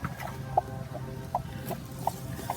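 Young chicks and chickens in an indoor room give soft, short clucks and peeps scattered at irregular intervals over a low background hum, faint and close.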